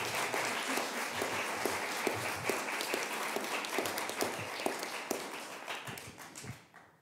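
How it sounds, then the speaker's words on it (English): Sustained audience applause at a New York bill-signing event with Governor Kathy Hochul, honoring adult abuse survivors and their advocates. A dense, steady wash of clapping holds for several seconds before tapering off at the end. "So let's give them a round of applause here today."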